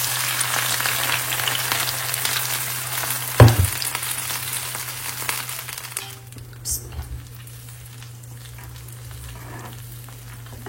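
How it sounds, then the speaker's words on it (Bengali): Onion and garlic frying, a soft continuous sizzle with a low steady hum, one sharp clatter of a utensil early on, then the frying fades quieter. "পেঁয়াজ রসুনটা ভাজা হয়ে গেছে।"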